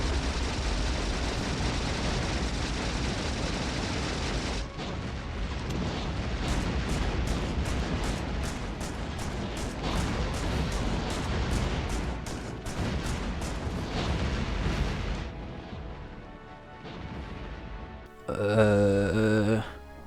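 Gunfire against a demolisher worm in the Factorio video game: a fast string of sharp repeated shots over a dense rumbling roar, then a rumble and a warbling sound near the end.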